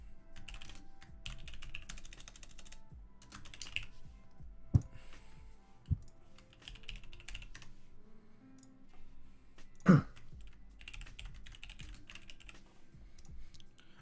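Typing on a computer keyboard at a desk between rounds of the game League of Legends, with a steady run of quiet key clicks and a few louder isolated clacks.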